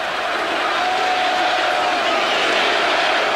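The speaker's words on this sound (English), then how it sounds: "Listen to this crowd." A dense college football stadium crowd roars steadily at Syracuse versus Notre Dame, a loud, unbroken wall of cheering and shouting with no pauses.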